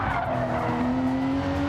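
Race cars in a sim racing game skid with sustained tire squeal, steady engine drone underneath and a rising whine throughout, loud and continuous with no speech.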